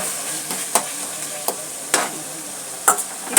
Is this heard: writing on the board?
no